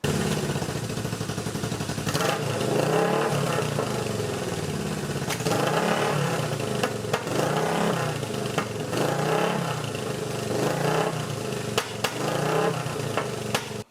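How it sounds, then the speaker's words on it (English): A Honda CB360 twin-cylinder motorcycle engine runs steadily at close range, its right cylinder backfiring with small irregular pops over a rough, throbbing idle and occasional blips. "We have two cylinders now, but the right side now is backfiring, popping a little bit."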